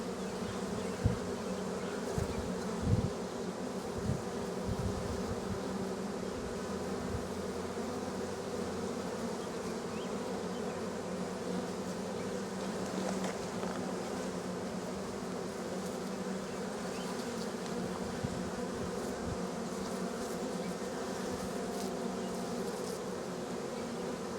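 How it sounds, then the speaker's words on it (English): Dense, steady buzzing of a honey bee swarm crowding into a hive box while robbing it, many wings droning together at close range, continuous and without voices. "It is getting crowded in that box. More and more bees are going in there."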